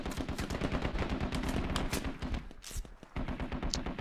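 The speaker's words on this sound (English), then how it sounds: "Finally hearing some M4s going." Distant M4 rifle fire in the video game Squad, a dense crackle of overlapping rapid shots and bursts from several weapons, with sharper nearer cracks popping out now and then.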